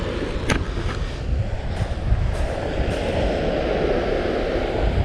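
Strong wind roars steadily across a stormy beach during surfcasting for flatfish, a dense broadband rush with occasional stronger gusts and faint knocks.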